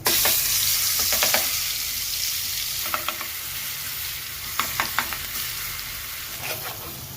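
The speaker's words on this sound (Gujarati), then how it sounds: "લસણની ચટણી શેકી નાખીએ" Red garlic chutney sizzles and fries in hot oil in a pan, a constant crackling hiss with a few sharper bursts of spattering as it is stirred, no speech.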